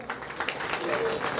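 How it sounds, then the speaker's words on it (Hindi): An audience at a special ability awards event applauds briefly, a burst of clapping with a voice speaking over it. "जोरदार तालियां बरसी रहनी चाहिए।"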